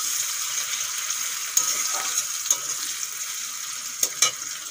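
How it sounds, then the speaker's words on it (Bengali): Chopped onions sizzle and fry steadily in a pan, with a few sharp clicks and scrapes of stirring breaking through the continuous hiss. "পেঁয়াজগুলো ভালো করে ভেজে নেব।"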